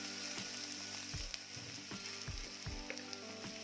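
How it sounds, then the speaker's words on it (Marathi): Chopped onion frying in a pan, a soft, even sizzle under repeated rhythmic knocks and scrapes of a spoon stirring against the pan, with no voices. "कांदा देखील छान आता रंग बदलेपर्यंत परतून घ्यायचा आहे भाजून घ्यायचा आहे"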